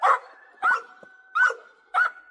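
Dogs on a homestead bark in four sharp, evenly spaced bursts about half a second apart, close and loud, with a faint whine lingering between barks.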